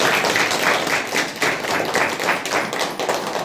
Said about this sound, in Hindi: और एक बार हम सब बढ़िया वाला ताली बजाएं प्रभु के लिए।